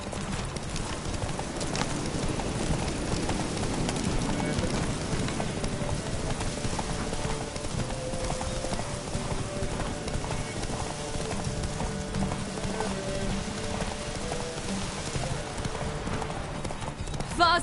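Horse hooves clip-clop steadily in a video game ride, galloping continuously throughout with game music and a voice talking over the rhythm.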